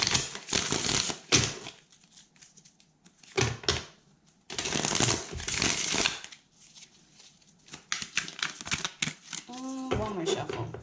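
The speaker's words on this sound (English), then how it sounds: "One more shuffle." A Pagan Cat tarot deck is shuffled in repeated bursts of riffling and slapping cards, close and crisp, with pauses between shuffles; a voice speaks briefly toward the end.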